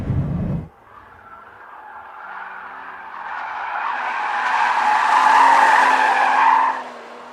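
A 2013 Porsche Boxster S screeches its tires through a figure-8 course, a short thump followed by a long, rising squeal that swells and holds loudly before cutting off, with no talk.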